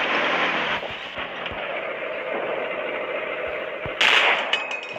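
Gunfire in the video game Polyfield: dense, continuous crackling bursts of shots held at steady loudness throughout, with a sharper, louder burst near the end.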